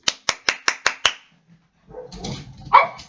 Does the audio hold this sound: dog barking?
yes